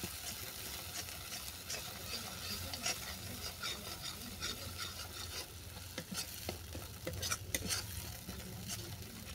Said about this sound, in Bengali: পোস্ত বাটা ভালো করে মিশিয়ে নেব